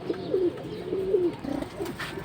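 A pair of silver high-flying pigeons coos close by, several throaty rolling coos following one another in a steady rhythm with light rustling between them.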